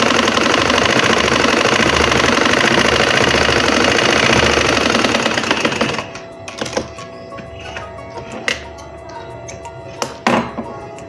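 A sewing machine runs a continuous stitch along the edge of a kameez hem, steady and loud for about six seconds before stopping, followed by scattered clicks and light handling noises.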